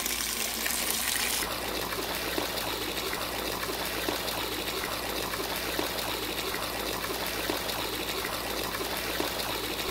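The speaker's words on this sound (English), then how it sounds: "What you want to do is just fill this up with water." Water pours steadily into an ice chest, a continuous splashing gush with a slightly brighter start, unbroken for about ten seconds with no talking.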